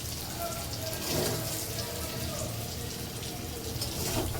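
Hot water running and splashing over a block of paneer in a home kitchen, a steady close wash of water with no pauses, while a voice talks faintly underneath.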